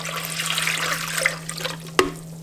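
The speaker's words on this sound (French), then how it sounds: "On va ajouter notre cuve de bouillon et 750 ml d'eau." Water poured into a cooking pot to join a stock cube and spice mix, a steady close splashing trickle that ends with a small clunk.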